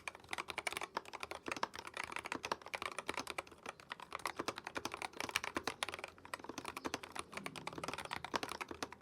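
Steady typing on a magnetic keyboard, with dense, continuous key clacks in an uneven rhythm, close and quiet, with no voices.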